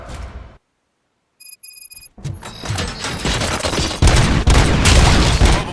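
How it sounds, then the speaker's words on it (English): Rapid gunfire bursts in the RoboCop: Rogue City video game during a prison riot, preceded by a brief silence and electronic ringing tones, then dense, loud volleys that build and continue to the end. "Gunshots? What's going on?"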